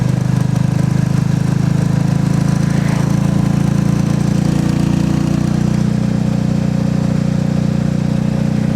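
A Royal Enfield motorcycle thrums steadily along Devon country lanes, its low engine drone loud and close throughout with constant wind rush and no pauses.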